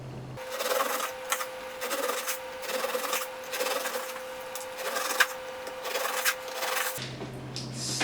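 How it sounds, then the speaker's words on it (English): Knife trimming the ends off a warm baked lemon biscotti log on a board, giving a steady run of close scraping, rasping cuts with short pauses between strokes. "I'm just going to go ahead and trim this up."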